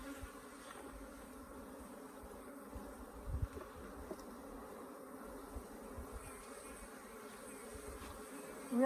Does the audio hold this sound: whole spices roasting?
no